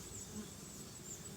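Honeybees humming around hives in a beekeeping yard, a soft steady drone that is quiet and continuous, with no voices.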